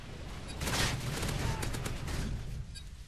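Bursts of gunfire in a capture-the-flag match on the Bootleg 2 map, a dense rattling fusillade peaking early then continuing at a steady level with some sharper cracks toward the end.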